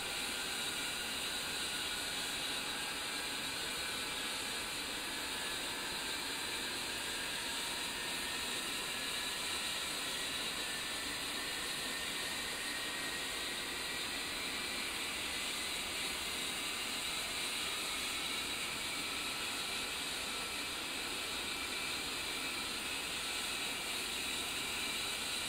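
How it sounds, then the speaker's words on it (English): Twin jet engines of an A-10C Warthog idle in a flight simulation game, a constant, even whine and hiss with a slowly rising tone, steady and uninterrupted throughout. "Once you have both engines running normally at idle power"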